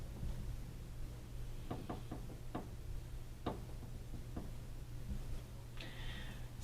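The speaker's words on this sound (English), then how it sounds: "if you hear any extra noise, that's the step creaking. Could sound like knocking" An old wooden step at a hotel in Grafton, Illinois, creaks on a cold night, giving a few faint, sparse knocking clicks over a steady low hum.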